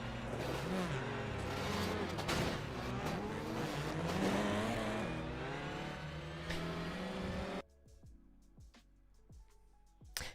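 An Audi TCR touring race car at Interlagos in iRacing roars loud and close, the engine climbing through gears for most of the stretch before cutting to quieter, clicking gear shifts and lighter engine noise near the end.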